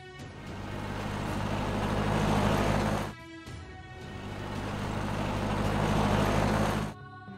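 A car in a monster truck kids' video game roars in two long engine surges, each swelling and then cutting off abruptly, steady and close with no talk.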